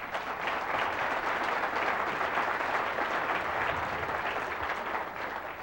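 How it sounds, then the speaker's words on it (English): A conference audience applauds Justice Breyer at the Aspen Institute, a dense, steady wash of many hands clapping that holds evenly for several seconds before easing slightly at the end. "if you want to applaud him for that"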